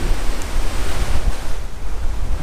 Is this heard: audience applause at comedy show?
no